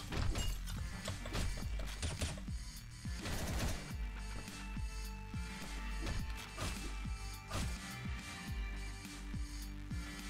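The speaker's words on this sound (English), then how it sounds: "there's a mechanic where you can slice through glass" Glass is sliced through and smashed in the video game Hotline Miami 2, with repeated sharp shattering crashes over a loud, pulsing game soundtrack.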